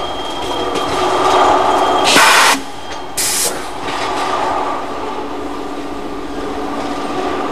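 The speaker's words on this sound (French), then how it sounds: "Finalement, les wagons sont aiguillés vers la bonne voie." Railroad wagons roll as they are switched onto a track in a marshalling yard, with a loud, steady rumble of wheels and two bursts of hissing brake air or wheel squeal partway through.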